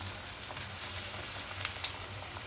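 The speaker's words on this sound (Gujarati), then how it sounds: "ભજીયા પણ આપણે કરવાના, મીડિયમ ગેસ પર એને તળવાના" Bhajiya, flattened rounds of batter for Burmese pyajo fritters, frying in hot oil over a medium gas flame, giving a steady, even sizzle and crackle with a couple of sharper pops, close and alone.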